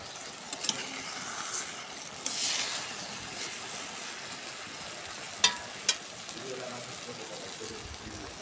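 A pangas fish, eggplant and potato curry sizzles quietly in a pan, a low steady frying hiss with a few sharp clinks of the spoon or lid while it is stirred.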